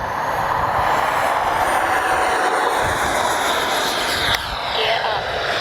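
An Arrows RC MiG-29 twin 64mm electric ducted-fan jet model flies past with a steady, loud, broadband rushing whine. The roar holds through the whole stretch and dips briefly near the end.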